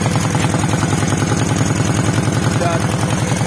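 A retro Dnepr motorcycle engine idles with a rapid, steady exhaust putter, close and loud, running evenly throughout.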